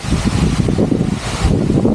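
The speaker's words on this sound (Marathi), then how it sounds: "वारा बघा वारा कसला वादळ आला हे बघा" A strong storm wind roars across an open rice paddy at evening during transplanting, buffeting the microphone with a loud, continuous rumble.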